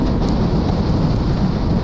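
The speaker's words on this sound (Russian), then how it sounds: "Потому что жесть, ветер огромной силы." Very strong wind roars steadily outdoors on an autumn fishing and hunting trip, a dense, constant rumble buffeting the microphone with no break.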